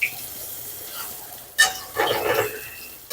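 Banana flower fritters frying in hot oil, giving a steady low sizzle broken by a few sharp clinks and scrapes of a utensil in the pan, close up and with no voices.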